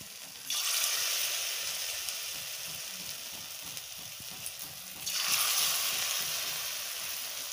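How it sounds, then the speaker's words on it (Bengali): Pakoras of gondho pata leaves fry in hot oil with a steady close sizzle that surges louder twice as fresh batter drops in, then settles back to a softer bubbling hiss. "এখন আমি এটা ভাজতেছি"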